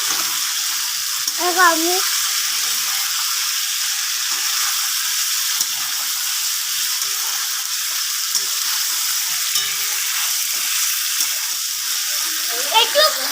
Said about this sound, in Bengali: ফুলকপি আর আলুটা দিয়ে একটু নাড়াচাড়া করছিলাম।